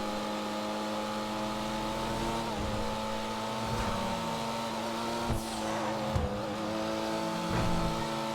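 Pfister Comet SR sports car in a video game accelerating, engine note rising in pitch through several gear shifts with brief dips between, a sustained close whine with no talk.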